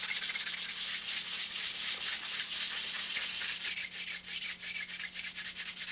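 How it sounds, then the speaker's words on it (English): Steady back-and-forth scratchy rubbing of a sanding block on wood, close and continuous, with a soft rhythmic pulse and a faint hum underneath. "I'll take my old sanding block, just try to true that up ever so little"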